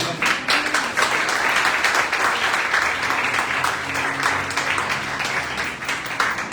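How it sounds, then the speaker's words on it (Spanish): Clapping fills a church as the congregation applauds the Lord, a loud, sustained, dense patter with individual sharp claps standing out and faint voices underneath. "¿Cuántos dan un aplauso al Señor?"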